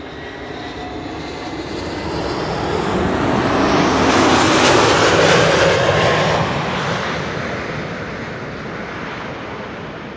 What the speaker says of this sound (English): This is Aegean flight 3624 arriving from Athens